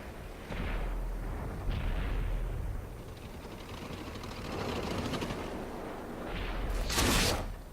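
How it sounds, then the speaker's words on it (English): Centurion 7/1 tank cannon firing in World of Tanks on Xbox, a loud booming blast with heavy rumbling echo, followed by a second sharp report near the end over a constant engine drone. "Another shot into him, damages ammo rack."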